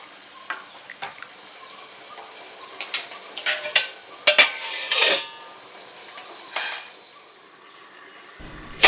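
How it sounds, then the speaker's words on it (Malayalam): Soaked basmati rice being stirred in a pot for jeera rice, with scattered scraping clinks and knocks of a utensil against metal that cluster and then fade to near quiet, followed by a final clunk as the pot is covered. "ഇത് നന്നായി ഒന്ന് ഇളക്കിയതിന് ശേഷം മൂടി വെച്ച് വേവാനായിട്ട് വെക്കാം."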